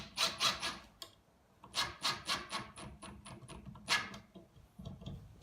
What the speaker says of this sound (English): Just going to take our regular screw on our drill bit